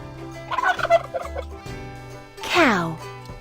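A farm turkey lets out a loud rapid gobble, a warbling burst near the end that follows a few softer clucks, all over background music in a children's farm-animal setting.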